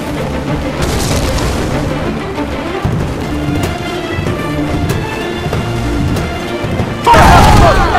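Ship cannons firing in the video game Assassin's Creed 4: Freedom Cry, a continuous rumbling barrage of booms and crashes filling the soundscape, ending in one louder blast, with shouted commands mixed under the cannonade.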